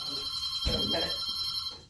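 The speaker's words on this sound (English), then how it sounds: "Teddy still got an old phone." An old telephone bell rings steadily nearby, a bright continuous trill that fills the whole moment, with one brief spoken word over it.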